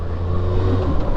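A Kawasaki ZX-6R four-cylinder motorcycle rolls along a road at easy low revs, its engine humming steadily close by for a brief stretch with no voices.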